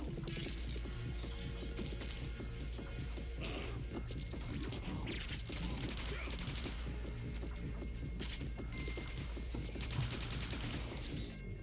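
Rapid gunfire in the side-scrolling game Gunbrella: dense volleys of sharp shots and metallic clanks crackle almost without pause, mixed with crashes and impacts over a steady game background.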